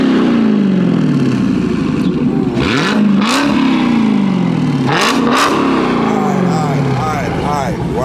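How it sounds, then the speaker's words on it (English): A Dodge Hellcat V8 without 5-inch Carven exhaust tips revs loudly twice in quick succession, each blip rising and falling over a steady close idle rumble, with people talking around it. "Rev it up like 1-2 times"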